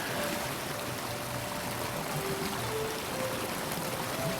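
A koi fish goes down into pond water in the game Rec Room, heard as a steady flowing, stream-like water rush with faint tonal blips, even and continuous throughout.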